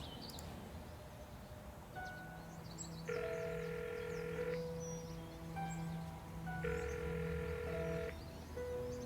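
Telephone ringing in the Broken Sword 5: The Serpent's Curse adventure game, two bursts of electronic ring tone over a steady in-game ambience with soft background hum, no talking.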